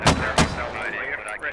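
Mortar fire in the military shooter Squad, two sharp, heavy reports in quick succession followed by a fading rumble and a high whistling tone. No one speaks.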